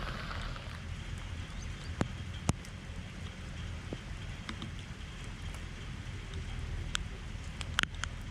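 Steady rain falls by a lake, a soft continuous patter with a few sharp drips and taps near the microphone, moderately faint and without talk.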